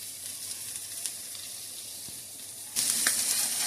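Lime fish frying in olive oil in a pan makes a soft, steady sizzle, then a sudden louder hissing burst as the fish is flipped over near the end.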